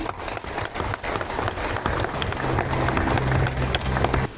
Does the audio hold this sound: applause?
yes